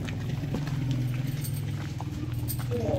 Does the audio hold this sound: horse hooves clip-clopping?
yes